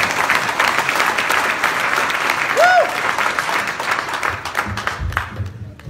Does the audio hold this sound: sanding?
no